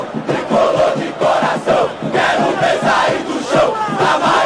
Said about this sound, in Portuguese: Paulo Vinícius Coelho, escuta só esta torcida. Eles vão apoiar o time o tempo todo